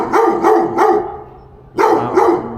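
A guard dog barks five times outdoors at a site in Yerevan, Armenia: three quick, loud, close barks in a steady rhythm, a short pause, then two more.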